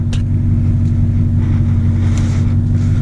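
A full bolt-on 2016 Camaro SS V8 in track mode idles with a deep, steady rumble and a constant low drone, loud and close throughout, with no talk over it.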